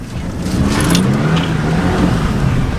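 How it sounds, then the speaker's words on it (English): A car engine is held at high revs while the driver tries to break the rear end loose into a drift. The drone is loud, steady and close, with no voices over it. "let's try to drift it the other way and see if that makes a difference"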